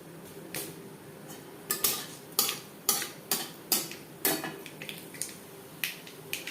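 Mustard seeds popping in hot mustard oil after a dried red chilli, in a vegetarian shapla (water lily stem) dish, give sharp irregular crackles and pops at close range over a faint background sizzle, with no talking.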